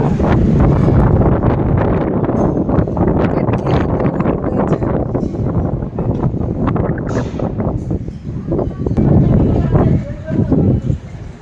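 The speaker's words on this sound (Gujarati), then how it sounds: "તમે પવન તો એક વખત જો." Loud, blustery wind during an unseasonal rainstorm in Surat, Gujarat, roaring and buffeting continuously, with rustling and a voice speaking intermittently underneath.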